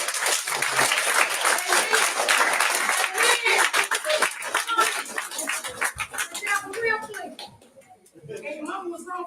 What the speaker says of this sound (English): can we clap our hands and bless him?